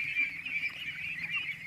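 A small group of farm ducks give a brief, continuous burst of nasal honks and quacks, close and moderately loud, with no voices.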